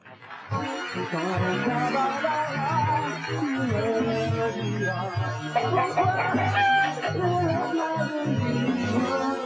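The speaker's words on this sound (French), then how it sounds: "Ah, Mousse et le coq" Rooster on a farm, with clucking and crowing fowl sounds mixed among voices and background noise, moderately close and busy throughout.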